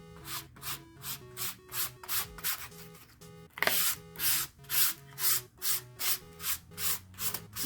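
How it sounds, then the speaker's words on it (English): Coarse sandpaper rubbed by hand over a wooden pumpkin sign made from old barn or recycled wood, with light pressure in steady back-and-forth strokes, close and clear, roughly two strokes a second, alone. "It's just this sandpaper we had. It was kind of coarse, so I'm not using too much pressure on it."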